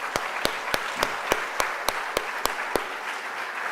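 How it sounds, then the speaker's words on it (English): An audience at an Albinism Awareness Day gathering gives sustained applause, with a steady wash of clapping and a few sharper, evenly spaced claps standing out on top. "can we please clap it up for my sister Keena Muhammad in the front?"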